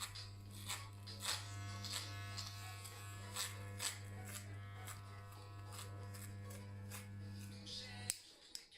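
Electric hair clipper fitted with a size 6 guard, cutting hair during a home haircut: a steady close-up buzz with short bursts of snipping texture as it passes through hair, cutting off abruptly near the end.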